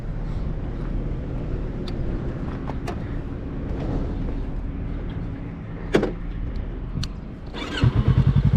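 Yamaha R3 motorcycle on its original stock exhaust, idling with a steady low rumble, a brief blip, then a sharp, loud burst of revving near the end.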